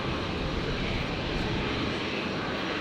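Jet engines of a Qantas Boeing 737 roar in a steady, broad wash as it departs runway 01 right at Brisbane airport, heard from a distance.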